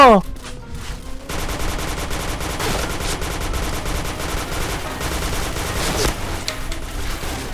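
Rapid automatic gunfire in a Thai online shooting game, a dense continuous rattle of shots filling the whole stretch, loud and close, with a brief sweeping effect at the start.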